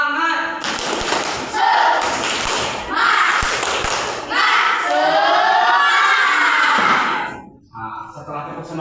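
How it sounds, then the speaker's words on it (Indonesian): Schoolchildren in an Indonesian classroom perform the tepuk semangat clapping chant, rhythmic claps and thumps mixed with loud shouted voices, continuous and close for most of the stretch before fading near the end. "Tepuk semangat."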